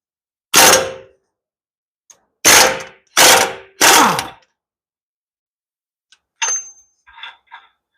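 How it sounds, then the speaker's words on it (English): The axle nut on a 2013 RAM 1500 pickup is loosened during front strut replacement. Four loud, harsh mechanical bursts come in quick succession, followed by a few fainter clinks and rattles. "I'm going to start off by loosening up this axle nut. Loud noises."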